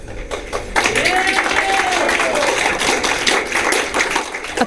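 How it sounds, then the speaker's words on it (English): A packed room of Clifton residents bursts into loud, sustained applause and cheering, dense clapping with voices rising through it. "A packed room erupting in applause as Clifton residents hear the news"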